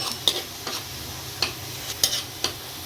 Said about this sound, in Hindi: देखिए प्याज को थोड़ा हल्का कलर चेंज होने तक फ्राई करना हैगा।